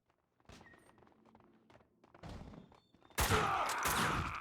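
Bursts of gunfire in the video game Max Payne 2: The Fall of Max Payne with heavy thuds, building to a loud, dense barrage of shots near the end.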